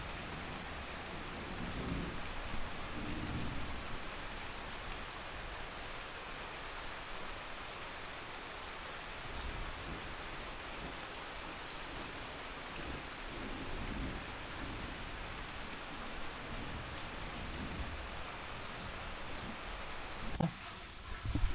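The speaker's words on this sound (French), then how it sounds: "de la pluie" Steady rain falling with low rolling thunder swelling and fading in the background, a continuous wash of drops throughout and a sharper burst near the end.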